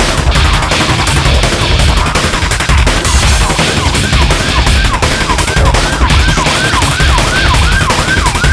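Fire engine sirens wail loudly as fire trucks rush past, rising and falling in a steady repeating sweep over dense, continuous traffic-like rumble, with no talk.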